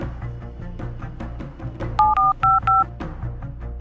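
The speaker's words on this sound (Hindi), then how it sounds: "इससे फोन लगाता हूँ मैं।" A home mobile phone is being dialed, with a run of clear keypad tones, several short beeps in quick succession, heard over a steady hum of background music or room noise.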